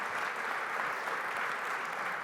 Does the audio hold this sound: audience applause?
yes